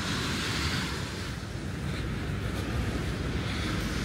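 Sea waves surge against a breakwater on the Madeira coast, making a continuous broadband roar of surf and spray with wind buffeting the microphone. The wash is loud and steady throughout, with no voices.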